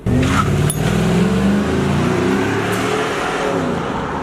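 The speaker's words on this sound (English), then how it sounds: "give me a little peel out when you leave" Four-cylinder car peeling out from a stop, a loud close engine rev with tire noise that quickly settles into a steady fading acceleration as it drives off.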